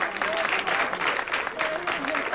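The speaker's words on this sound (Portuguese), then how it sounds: "Agora, aplausos para vocês mesmos." Students in a classroom applaud themselves, a dense, steady patter of clapping filling the room with a few voices and cheers mixed in throughout.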